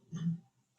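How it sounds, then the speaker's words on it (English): A single short, fairly quiet cough from a man, a brief throaty burst followed by a pause and a sharp noise at the end. "Don't end up coughing like this."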